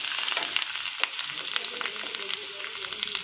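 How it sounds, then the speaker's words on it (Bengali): Chopped garlic with black cumin seeds frying in hot oil for a Bengali bakful (hummingbird flower) dish, a steady close sizzle with crackling pops and occasional stirring scrapes throughout. "রসুনটা একটু ভাজা ভাজা করে নেবেন।"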